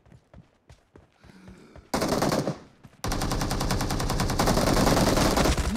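Video game team deathmatch gunfire: a few scattered shots and clicks give way to loud bursts, then a sustained rapid machine-gun stream that runs to the end.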